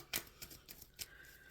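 Tarot cards are shuffled by hand, giving a handful of faint, crisp papery snaps and clicks spaced irregularly in a quiet room.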